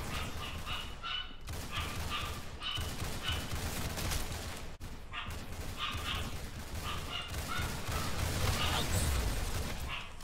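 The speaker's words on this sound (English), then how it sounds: "You might hear my dog too." A dog barks repeatedly in the background during a gaming session, in quick bursts of yips and barks over steady game noise and gunfire-like clatter.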